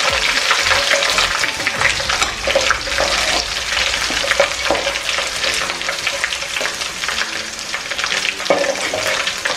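Fenugreek seeds and garlic frying in hot oil for a Tamil mathi fish kuzhambu, a loud, steady, crackling sizzle running continuously with bursts of spatter.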